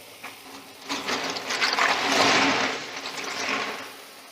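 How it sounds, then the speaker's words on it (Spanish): Snails stirred around in a basin of water while being washed, a continuous wet sloshing and swishing that swells in the middle and tapers off, close and alone. "lo que hacemos es vaciar el caracol en el agua para moverlo un poquito"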